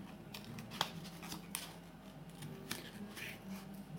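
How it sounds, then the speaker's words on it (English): Faint, sparse snips of scissors through paper, a few crisp cuts spaced irregularly against quiet room noise. "I love the scissors because you can get into the corners quite easily."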